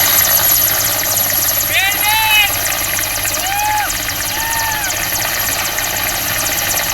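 An air force rescue helicopter over a flooded river drones with a steady engine and rotor hum, while a few short voice-like tones rise briefly over it mid-clip.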